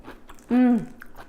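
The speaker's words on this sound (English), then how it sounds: "I'm sure you could hear my crunchy bite through my microphone" A single short crunchy bite, close and crisp, with a brief voiced sound over it and quiet mouth noises around.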